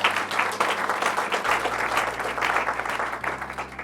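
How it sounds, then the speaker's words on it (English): A crowd at a stock exchange bell ceremony applauds in a full, continuous wash of clapping with a low steady hum underneath, holding at an even level throughout. "may you applaud the BSE for that"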